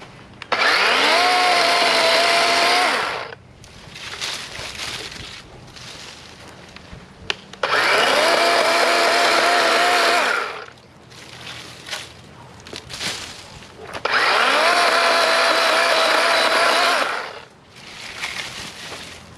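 DeWALT 20V XR cordless chainsaw cutting small tree branches one to two inches thick, three loud sustained whining cuts of about three seconds each, with quieter idle and handling noise between them.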